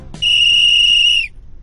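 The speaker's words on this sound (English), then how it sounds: "Suddenly, everyone hears a whistle and Noodle appears." In a cartoon, a whistle is blown once: a loud, steady, shrill tone held for about a second before it cuts off, with no voices over it.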